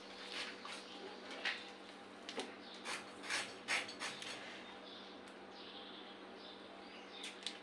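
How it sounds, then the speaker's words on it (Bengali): Raw jackfruit being cut with a knife: a series of faint, scattered scraping and chopping strokes, irregular in rhythm, close by against a quiet background with a low steady hum. "আপনারা দেখছেন আমরা ইঁচড় কাটছি।"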